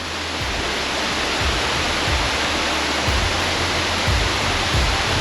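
A waterfall roars as steady, dense rushing water, loud and continuous for the whole stretch with no voices over it.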